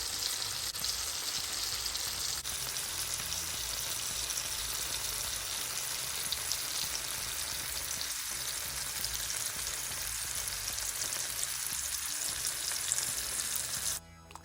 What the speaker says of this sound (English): let's put the sausage in that nice butter